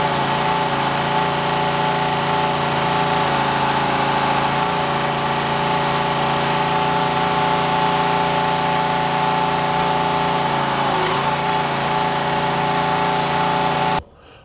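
A Genesis Rescue S49XL hydraulic spreader runs with a steady, loud mechanical drone and hum that holds continuously and alone for about fourteen seconds, then cuts off abruptly.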